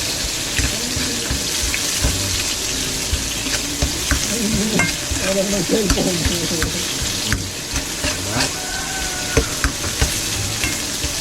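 Garlic, onion and tomato sautéing in a pan give a continuous close sizzle with stirring scrapes and clinks, plus some watery splashing like a running tap in the background.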